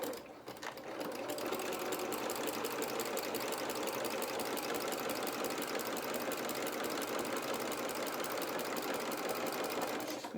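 A domestic sewing machine runs a zigzag stitch across a raw fabric edge, with a fast steady mechanical chatter that starts after a brief moment and carries on close and unbroken.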